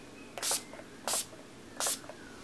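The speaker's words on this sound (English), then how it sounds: "Setting Spray, I just squirt this on my face" Three quick, crisp hissing spritzes from a makeup setting spray bottle onto a face, evenly spaced and close up, with quiet in between.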